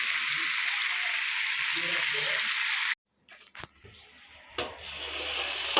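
Meat with red and green peppers and tomatoes stewing in a pan for Spanish paella, giving a steady loud sizzle for about three seconds, then a sudden cut to near silence before quieter sizzling and clatter return.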